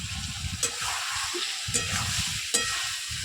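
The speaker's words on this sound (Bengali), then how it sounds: "একটু নেড়ে চেড়ে ভালো করে মিশিয়ে মশলার সঙ্গে ভালো করে কষিয়ে" Soybean and potato curry with spices being stirred in a pan, a steady sizzle under scraping and stirring strokes, with three sharp clinks of the utensil against the pan spaced about a second apart.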